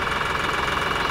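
Homemade compost trommel sifter driven off a lawn tractor tire, running with a steady, continuous mechanical engine-like drone and rhythmic knocking vibration, close and fairly loud with no talking.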